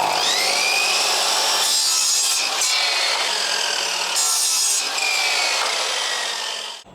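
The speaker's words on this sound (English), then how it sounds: "I'll position this end here in the middle, like so, and off I go." A hand saw cuts steadily through timber for a garden pergola, a rhythmic rasping of long even strokes close to the microphone, running continuously for several seconds before stopping.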